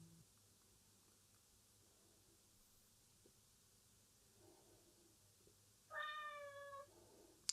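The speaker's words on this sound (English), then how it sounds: "That was the cat." A single cat meow rises out of a quiet workshop, fairly close, with faint background hiss before it.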